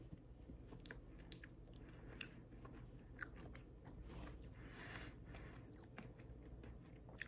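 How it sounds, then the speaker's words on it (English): Crunchy lemon candy coated with nerds-type candy being chewed close up, steady crisp crunching and biting sounds repeating throughout, with no talking. "I can taste the tartness of the lemon and the crunchiness of the nerds type candy"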